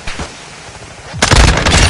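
Gunfire and a grenade blast in Call of Duty: Modern Warfare II, with a few scattered shots and then a sudden loud burst of explosive noise and crackling that carries to the end.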